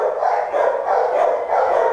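A dog barking during a dog introduction, with repeated muffled barks in a steady rhythm, loud and fairly close, and no talking.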